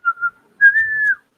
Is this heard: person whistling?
yes